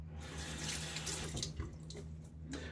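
Tap water runs steadily into a bathroom sink for rinsing after a shave, a close, continuous splashing hiss over a low steady hum, with no talk.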